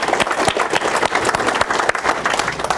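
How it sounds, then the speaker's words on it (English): Sustained round of applause from a crowd at a district candidate's campaign event, dense and loud with a few sharper claps standing out in the steady patter. "I think we all want a round of applause"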